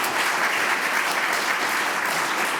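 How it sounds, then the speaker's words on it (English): Warm applause from a conference audience at a talk on hybrid warfare and Russia, a dense continuous clapping at steady loudness throughout with no speech over it. "Give them a warm applause."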